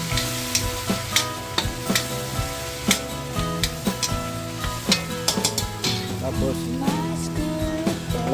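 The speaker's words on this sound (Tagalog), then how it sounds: "Luhaluin natin." Adobong kangkong with oyster sauce stirred in a hot pan: loud sizzling frying with repeated sharp clacks of a utensil against the pan in an irregular rhythm, close up.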